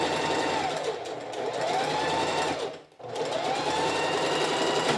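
Sewing machine stitching a curved seam without pins, a steady close whirring run that slows and pauses briefly around the corner before resuming at an even pace.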